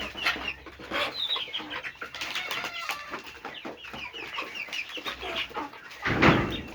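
Hens cluck steadily on a small family poultry farm, overlapping calls near and far with a rooster-like squawk, and a louder burst of fowl noise toward the end.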